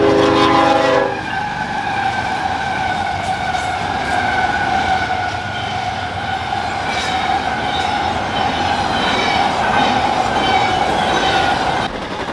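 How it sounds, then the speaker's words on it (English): An eastbound Union Pacific stack freight train passes close by on the BNSF Marceline Subdivision at La Plata, Missouri, a loud steady rumble and rolling wheel noise with a brief horn at the start, continuing without pause. "Eastbound Union Pacific train FZCIG4 was already there."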